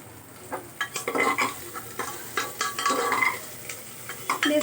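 Vegetables fry in a pan over high gas heat as a utensil stirs and scrapes them in irregular bursts, the sizzle rising and falling close by with faint clinks of metal.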